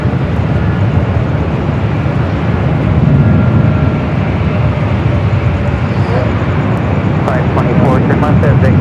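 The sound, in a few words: Hawaiian Airlines Airbus A321neo jet at LAX airport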